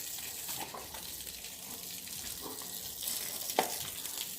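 Running water that a pair of dogs are chasing makes a quiet, hissing splash with a few sharper spatters. It sounds fairly distant and faint against a soft background.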